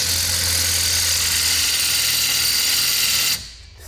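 A power drill with poor drill bits runs continuously at high speed, drilling cooler brackets for a Toyota Cressida, loud and close, with a steady whine, then cuts off abruptly near the end.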